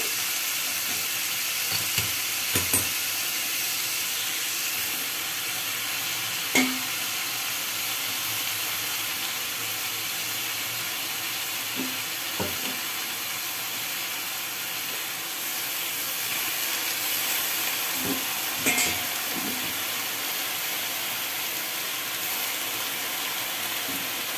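Greens for lau dogar fry in a hot pan with a steady, even sizzle and hiss throughout, broken by a few brief clinks and stirring knocks.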